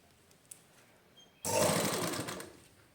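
After a quiet pause, a sewing machine stitching lace onto fabric starts abruptly and runs in a loud, close, steady whirring rattle for about a second and a half before slowing, with no speech.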